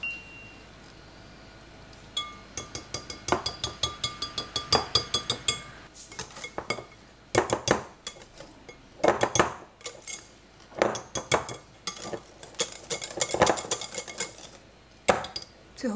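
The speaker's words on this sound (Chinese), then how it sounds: "手打的奶油，然后把奶油加进刚刚这个奶酪糊，" Whipped cream being stirred into a cheese mixture for tiramisu, with repeated clinks and scrapes of a utensil against a bowl, rhythmic bursts at close range that come and go in loud clusters.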